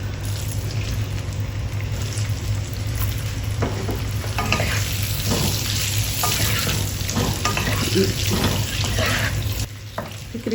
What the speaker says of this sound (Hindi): तकरीबन 2 मिनट इनको फ्राई करेंगे मीडियम आंच पे